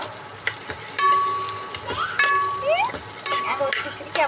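Ingredients for sambar rice sautéing in a pan, close sizzling broken by repeated spoon scrapes and stirring strokes, with a few faint clinks and no talking.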